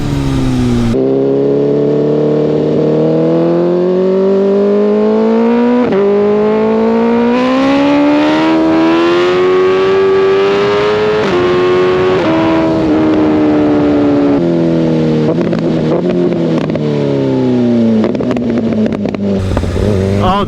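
A 2025 BMW S1000RR motorcycle with an aftermarket exhaust and tune accelerating hard, its loud engine climbing steadily in pitch through several gear shifts, screaming and very close throughout.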